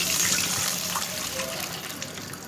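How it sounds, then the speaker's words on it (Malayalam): Water pours into a pan of ghee-roasted semolina for rava kesari, a steady close splashing trickle with no voices. "വെള്ളം ഒഴിച്ചു കൊടുക്കാം"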